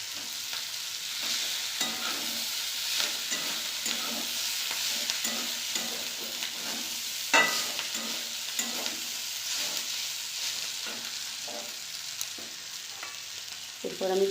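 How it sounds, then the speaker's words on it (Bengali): Pasta being fried and stirred in a pan, with a steady sizzle and repeated scraping, clinking stirs at a close, moderate level. "এরপরে আমি পাস্তাগুলো দিয়ে দিচ্ছি।"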